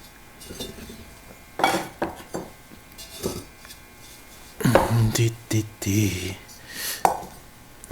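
Ceramic bisque pots clink and knock together as they are unloaded from a kiln and set on a shelf, in irregular bursts of close, bright clatter with a person speaking in between.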